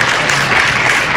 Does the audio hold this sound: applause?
yes